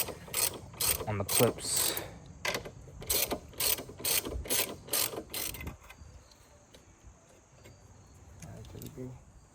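A ratchet wrench clicks in quick bursts while undoing bolts on a BMW E92 M3, close and fairly quiet, with someone speaking briefly over it before the clicking stops.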